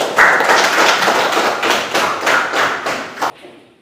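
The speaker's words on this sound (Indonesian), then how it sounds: "tepuk tangan buat kelompok 1 nih" A short burst of applause from a class for a student group in a classroom, steady clapping that stops abruptly after a few seconds.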